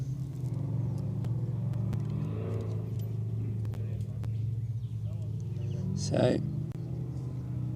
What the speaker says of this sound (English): That Ultra 4 making light work of those rocks.